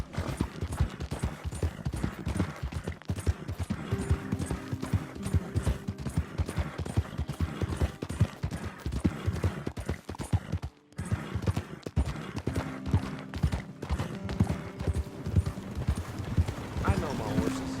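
Horse hooves clip-clop in a steady rhythmic gait in the Red Dead Redemption 2 video game, close and prominent, with a brief pause midway, game sounds and voices mixed in.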